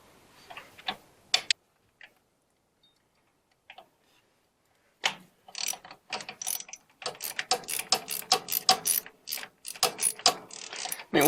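Ratchet socket wrench turning a nut on a Montana 4540 tractor, close and clicking, a few sparse clicks then a dense run of rapid ratcheting strokes, with no speech.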